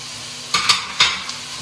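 Kale being sautéed in a pot for beef soup, with a steady low sizzle broken by a few sharp stirring scrapes and clatters close by, and no talking.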